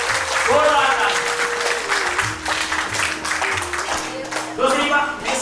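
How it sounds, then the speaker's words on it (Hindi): Loud, continuous clapping fills the hall at a silver jubilee gathering marking an association's 25 years, mixed with steady background music carrying sustained tones and a thumping low rhythm. "जोरदार तालियां।"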